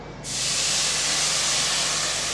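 Water goes into a hot pan of roasted vermicelli and sago and bursts into a loud, sudden sizzling hiss that holds steady and close, with no talking.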